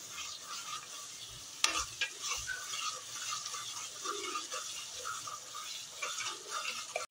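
Red chickpea curry spices with Kashmiri chili being stirred in oil in a pan, a soft sizzle under scraping spoon strokes and one sharp clink of metal.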